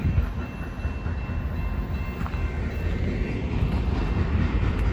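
A freight train rolls past heading toward Boston Bar, a loud, steady, close rumble of railcars with dense low-end roar and wheel noise, continuous with no voices.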